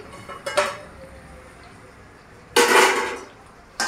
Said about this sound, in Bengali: এবার আমি ঢাকনাটা তুলে দিচ্ছি।